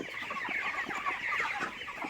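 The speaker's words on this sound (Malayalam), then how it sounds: "ഇത് 2000 കോഴിക്കളുടെ ഒരു ഫാമാണ്." Chickens cluck steadily on a poultry farm holding 2000 birds, a dense, close chorus of overlapping clucks and murmurs with no voices.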